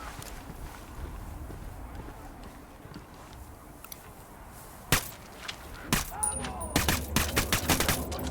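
Gunfire in Ghost Recon Wildlands: after a stretch of ambient wind and rumble, a loud shot cracks out, then dense bursts of rapid automatic fire follow close by.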